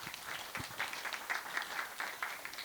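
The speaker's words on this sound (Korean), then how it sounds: "박수 부탁드리겠습니다." Conference attendees at an agile panel discussion applaud briefly, soft pulsing rounds of clapping heard from some distance, fairly faint and without speech over them.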